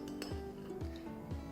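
A quick stir of cold water mixed with essential oils for a compress brings a few faint, rhythmic clinks of a utensil against the container, about three light strokes in a quiet room.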